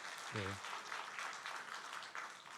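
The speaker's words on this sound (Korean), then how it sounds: "우리 환영하고 또 감사의 박수 하십시다." Church congregation at a Korean Sunday service clapping in welcome and thanks, a soft, distant patter of hands that follows a brief low voiced sound at the start.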